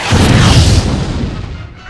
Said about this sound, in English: Fire a quantum torpedo at the bow of that ship a few kilometers away.